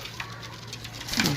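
Pigeons in a loft coo softly against a steady low hum, with brief rustling and a louder burst of fluttering near the end.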